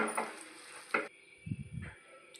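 Banana flower and lentil curry with grated coconut, turmeric and salt stirred in a pan, giving soft scraping swishes and a brief burst of low clattering against a faint background hiss.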